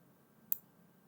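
A single sharp computer mouse click, crisp and close, stands alone against a faint low hum during PLC software work.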